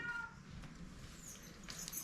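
A cat outside gives a couple of faint meows, drawn by the smell of small fish cooking, against a quiet background hum.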